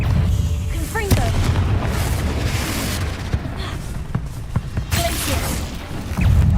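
The Confringo fire spell from Hogwarts Legacy bursts with a heavy booming blast, followed by rumbling, crackling impacts and scattered crashes over dense game ambience.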